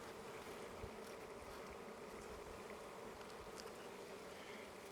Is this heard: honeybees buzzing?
yes